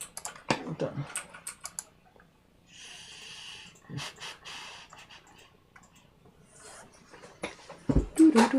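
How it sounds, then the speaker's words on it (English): Quiet, uneven clicks from a computer keyboard come in short bursts with pauses during an Arduino ESP8266 programming session. Faint breathing and other small noises sit in the background. "we just hear your keyboard"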